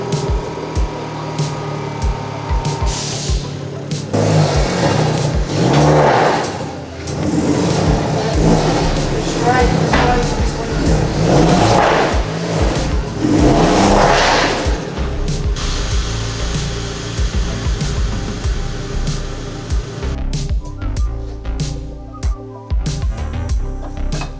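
Abarth tuned to stage 2, its engine revving in several loud surges as it drives off a rolling road dyno, with people talking over the engine noise.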